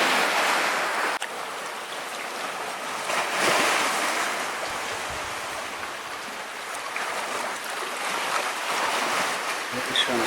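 Ocean surf surging into Mermaid Grotto, a sea cave on the coast, as a steady, loud broadband wash of water with swelling and receding waves and some wind buffeting the microphone throughout.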